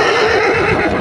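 A mare at a livestock market whinnies in a loud, sustained call lasting about a second, with faint hoof clip-clop underneath.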